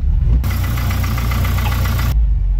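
A neglected turbocharged project car's engine runs at a steady idle close by, a continuous low rumble with a faint regular pulsing and no voices over it.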